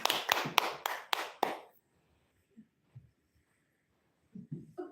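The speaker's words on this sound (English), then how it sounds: "Clap, guys, clap." Audience clapping in a short burst of about six sharp claps over roughly two seconds, fairly close, followed by near silence with a few faint stray sounds.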